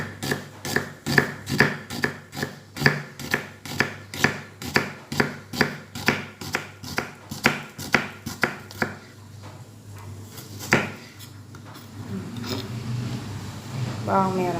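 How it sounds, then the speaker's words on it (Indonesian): Knife chopping an onion on a cutting board, a steady run of about twenty sharp, evenly spaced chops close up for several seconds, then stopping, with some faint handling noise after. "Kita potong ya untuk bawang bombaynya,"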